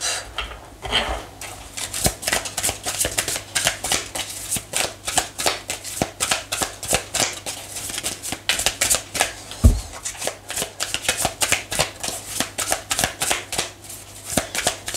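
Tarot cards are shuffled by hand in quick, continuous riffling bursts, close and fairly loud, with brief pauses between runs.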